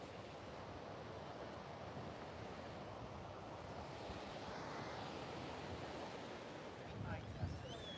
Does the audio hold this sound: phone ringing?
no